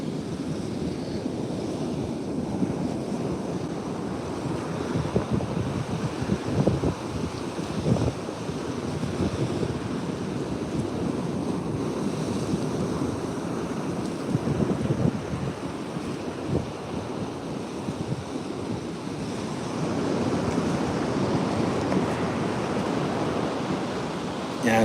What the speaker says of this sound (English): those waves are kicking.